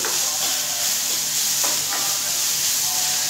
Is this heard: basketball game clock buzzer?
no